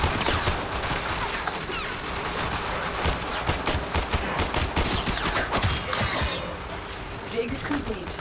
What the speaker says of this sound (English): I hear a heavy gunner.